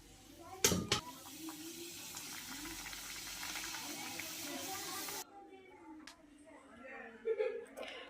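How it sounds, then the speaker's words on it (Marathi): Modaks deep-fry in hot oil with a steady, bubbling hiss that suddenly drops away about two-thirds through, leaving only quieter sounds, with a voice faintly present. "अशाच पद्धतीनं आपण सर्व मोदक तळून घेऊया"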